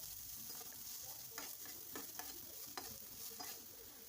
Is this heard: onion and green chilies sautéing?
yes